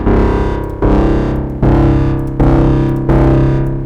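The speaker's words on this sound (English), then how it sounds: "Next thing is I'm going to go for some distortion." Synth braam from a wavetable synth run through a diode distortion module, five loud, heavily distorted sustained hits, each swelling then decaying before the next strikes, alone with no talk.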